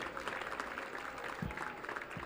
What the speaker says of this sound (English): Please give one more round of applause to all of tonight's award winners.